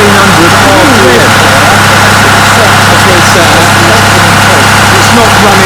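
A Lombardini diesel engine holds a steady 1600 RPM at full revs, a constant close, loud mechanical drone with an even rhythmic knock and no pauses.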